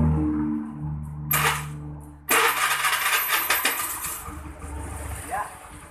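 A carbureted Honda Beat scooter engine is started after carburetor service: a short starter burst, a pause, then a noisy crank that catches into rough running before settling, close and fairly loud, with a low hum beneath.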